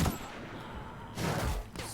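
Short bursts of assault rifle fire in The Outer Worlds, loud and close, with a crackling volley at the start and another dense burst near the end, no talking over it.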